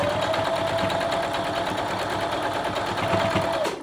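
A sewing machine runs steadily, stitching two quilt block fabric pieces right sides together, a continuous close mechanical whir with fine rapid needle clatter that slows and stops right at the end.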